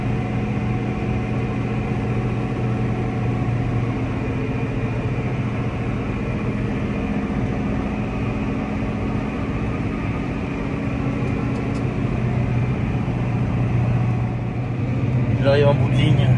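A Fendt 313 tractor pulling a Rolland manure spreader while spreading, a loud steady engine drone with a constant mechanical hum from inside the cab, with a voice talking over it.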